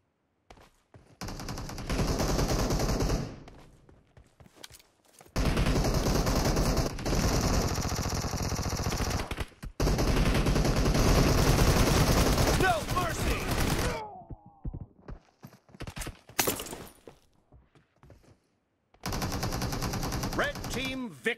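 Rapid automatic gunfire in the PUBG Mobile game, played on an emulator, comes in long dense bursts separated by short gaps, loud and close, with a few isolated single shots between volleys.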